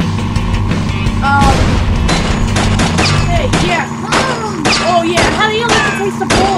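Video game gunfire and booms in Burnin' Rubber 5 mixed with engine noise and whooshing effects, loud and busy throughout, with a person talking over the action.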